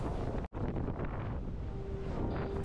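Strong wind buffets the microphone while sailing the Aegean Sea, a dense, continuous roar mixed with water rushing against the boat, briefly dropping out for an instant before resuming loudly.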